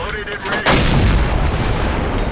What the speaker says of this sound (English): So I fire, put a shot into her.